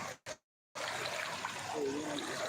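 Flood water from a large drain gushes into a house in a steady, dense rushing flow, after two brief bursts and a short silence.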